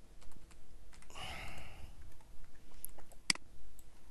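Code being typed on a computer keyboard, a steady run of soft, close keystrokes with one denser flurry of clicks, heard alone.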